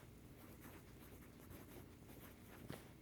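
A writing implement scratches across paper in quiet, close strokes, faint and soft with short scribbling bursts and no talk.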